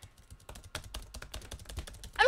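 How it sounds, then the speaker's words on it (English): Computer keyboard keys pressed in a rapid, uneven run of close, crisp clicks during a button-pressing game, with a louder burst at the end. "I'm pressing keys!"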